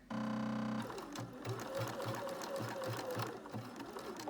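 A domestic sewing machine runs steadily with its foot down, stitching a zigzag seam on a handmade Valentine project, preceded by a brief whirring start; rhythmic needle clatter continues close and loud throughout, with no speech.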